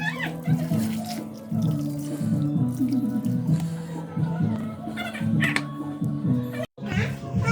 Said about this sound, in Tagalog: lagyan muna natin ng mainit na tubig.